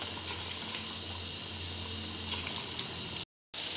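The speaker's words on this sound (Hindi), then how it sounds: "देखें गोश्त भुनना शुरू हो गया" Gosht (meat) fries in masala in a pan with a steady, close sizzle that cuts out briefly near the end.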